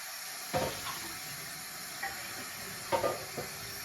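Tap water runs softly into a kitchen sink while a glass candle jar is rinsed, with a few clinks and splashes of glass being handled.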